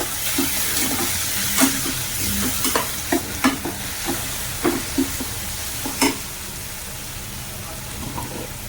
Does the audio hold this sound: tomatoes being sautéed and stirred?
yes